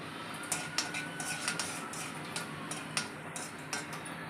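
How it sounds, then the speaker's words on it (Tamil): Mustard seeds spluttering in hot oil with cumin and fenugreek for toor dal rasam, a faint rapid series of small sharp pops and crackles at close range, irregular but continuous, with no talking. "கடுகு பொரியட்டும்"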